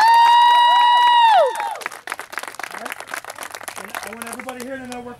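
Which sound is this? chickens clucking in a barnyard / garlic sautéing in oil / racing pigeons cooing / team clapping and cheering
team clapping and cheering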